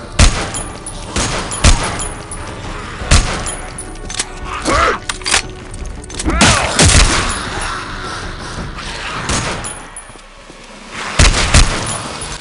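Handgun shots ring out in Dead Epidemic, a series of loud, sharp reports spaced irregularly across the stretch, with a few bursts landing close together amid game background noise.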